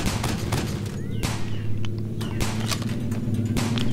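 Gunfire crackles in the Dude Theft Wars game as rapid repeated shots cut over a low rumbling engine drone, loud and dense throughout, with a brief voice mixed in.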